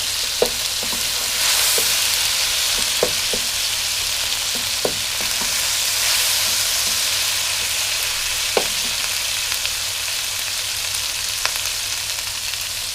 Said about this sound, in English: There are tomatoes and the chilies have been cooking.